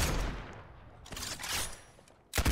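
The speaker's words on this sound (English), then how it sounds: "Now you'll see her turn and just shoot everybody." Bursts of rapid gunfire from a tower shooting at enemies in the Roblox game Arena Tower Defense, coming in clustered volleys with brief gaps and a sharp loud burst at the end.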